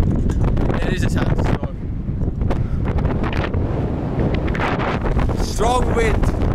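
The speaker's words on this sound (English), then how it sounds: "There is a sandstorm." Strong sandstorm wind in Morocco buffets a cyclist's microphone with continuous roaring gusts, while a few voices speak briefly over the blustery noise.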